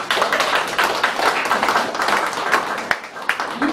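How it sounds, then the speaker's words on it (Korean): An audience at an exhibition ceremony on the history of hairdressing in Gwangju claps together, with brisk, close clapping and a few sharper individual claps standing out. "박수 좀"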